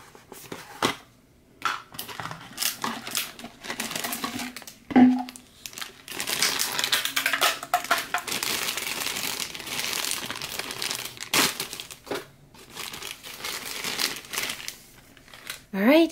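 Crinkling and crumpling of plastic packaging as a Barbie Color Reveal doll is pulled from its container, with irregular rustles and a few sharper crackles close by throughout.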